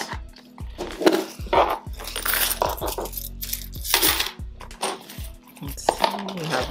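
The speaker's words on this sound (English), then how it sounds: "I'm gonna be adding them to my coin jar here." Coins clatter and jingle as a handful after handful is dropped into a coin jar, a run of close metallic clinks and chinks coming in bursts, with a brief voice in the background.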